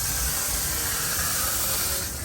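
Hot water sprays out under pressure while a household water heater is drained, a loud, steady, broadband hiss that runs unbroken and close, easing slightly at the very end.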